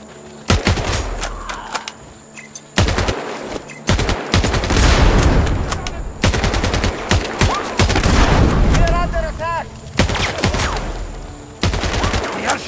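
Loud gunfire in the video game Sniper Ghost Warrior Contracts 2: repeated bursts of shots and booms crack out over nearly thirteen seconds, broken by brief pauses.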